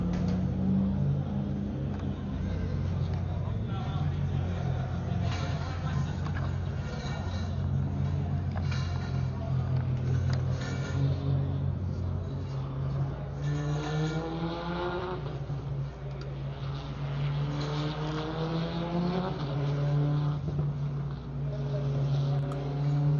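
A race car laps Buttonwillow raceway heading into the Phil Hill corner, its engine droning and rising in pitch at a moderate distance under a commentator's continuous talk.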